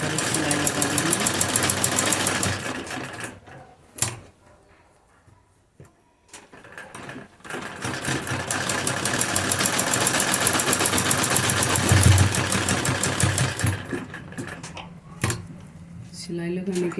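A sewing machine runs a seam to fix a dori cord at the neck of a kurti. The motor drones steadily, stops for a few seconds, then starts again and runs to the end.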